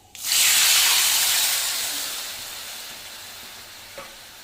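Tamarind pulp is poured into hot oil with cumin and fennel seeds, setting off a loud, sudden sizzle that hisses strongly and then slowly fades over several seconds.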